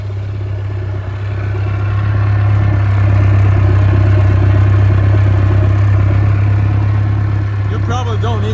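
A boat engine runs steadily during winterization, antifreeze fluid flowing through it, giving a loud continuous low idle hum with mechanical clatter throughout.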